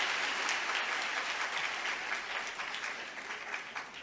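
An audience at a DXN business session applauds together in a steady burst of clapping that holds for a few seconds and slowly fades, fairly faint.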